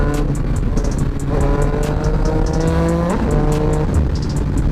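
Big bike engine with a full system exhaust revving hard, a loud rising and falling roar with shifting pitch, close by and continuous.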